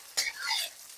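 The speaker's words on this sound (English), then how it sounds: "We're going to put in our garlic, about a couple cloves of garlic" Garlic cloves hit a hot wok in a veggie stir-fry and burst into a sharp, bright sizzle that swells quickly, then settles into a steady hiss with a little stirring.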